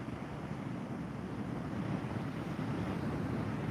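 Wind buffeting a microphone outdoors on a walk, a steady, loud broadband roar that fills the whole stretch with nothing else standing out.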